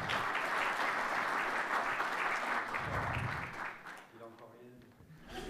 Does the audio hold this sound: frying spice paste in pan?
no